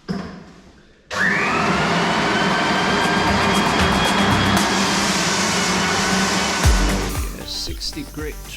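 A floor sander fitted with 60 grit ceramic discs starts up and grinds steadily across an oak herringbone floor, a loud, even drone that then winds down to a stop.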